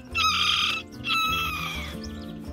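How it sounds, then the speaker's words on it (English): A Serama bantam chicken from Malaysia gives two loud, close calls in quick succession, followed by softer clucking. "The surima is a bantam chicken from Malaysia."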